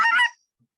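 A short reed goose call blown in a quick push-moan-cluck pattern gives one bright, honking burst of about a quarter second. The burst is close and loud and stops sharply, and a faint low blip follows.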